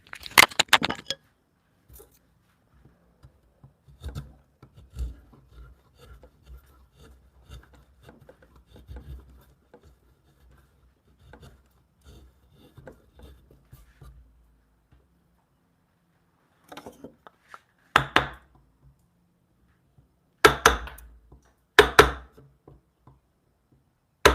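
A chisel carving a wooden spiral ribbon rail in a workshop, sparse soft scraping cuts with a few sharper, louder bursts of paring and knocks later on, separated by near-silence.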